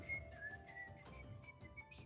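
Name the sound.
whistling imitating 1960s Mickey Mouse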